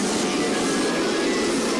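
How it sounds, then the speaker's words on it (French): Dense wall of overlapping music from 32 cartoon theme songs played simultaneously, a loud, smeared, noisy blend with no distinct melody. "c'est simplement les 32 génériques des 32 dessins animés qui ont été pris,"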